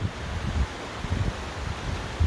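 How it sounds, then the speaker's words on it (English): Wind buffeting a microphone on a wet, gusty day at the Big Sur Inn, a low rumbling wash with uneven gusts throughout the short stretch and no voices. "It is a wet and windy day in the Big Sur Inn"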